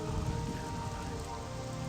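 Rain from the video game Morrowind, a dense, steady downpour hissing over surfaces with low rumbling undertones, continuous and fairly loud, no voices.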